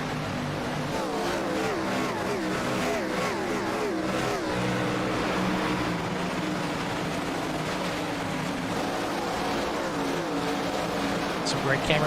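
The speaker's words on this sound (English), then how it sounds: "We are green flag racing here at Richmond." Pack of stock race cars roaring off at the green flag start at Richmond, loud layered engines revving and shifting continuously, with a commentator talking over them.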